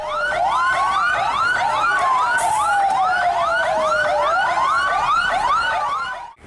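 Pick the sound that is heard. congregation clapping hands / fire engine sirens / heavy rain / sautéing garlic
fire engine sirens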